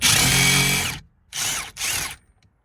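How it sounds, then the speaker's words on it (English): An impact gun with a 24 mm socket works loose the steering wheel bolt on a 2016 Ford Escape SE: one long high whirring burst followed by two shorter rattling bursts, close and loud, with no voices. "I've got my 24 millimeter ratchet on a impact gun"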